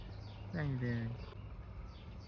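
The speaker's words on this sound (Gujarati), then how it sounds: "ચકલી બોલે છે" A sparrow gives a short chirping call in a village setting in Botad, a few clear descending notes close by over a steady low hum.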